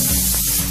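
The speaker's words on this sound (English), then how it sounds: "Spray onto all of the surfaces in the room and into the air." A spray bottle of bleach solution, one part bleach to ten parts water, mists disinfectant over room surfaces and into the air. A single close, steady hiss of spray lasts under a second, with no voices.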